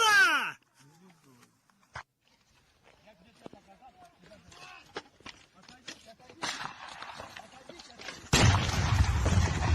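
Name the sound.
gunfire and artillery in Ukraine war combat footage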